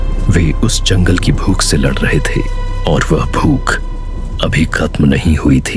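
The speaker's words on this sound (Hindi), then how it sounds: "रेंजर स्टेशन के अंदर सिर्फ तूफान की आवाज गूंज रही थी।" A thunderstorm with steady low rumbling thunder and rain, a sound effect in an animated Hindi horror story, plays continuously beneath a voice narrating throughout.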